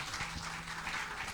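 Church congregation clapping together during a communion service, a dense, continuous spatter of hands that is moderately loud and steady throughout the brief moment, with no speech over it.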